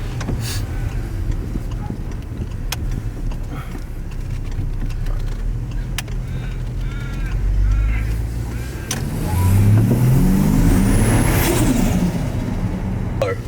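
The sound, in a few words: car engine sound after aftermarket air intake installed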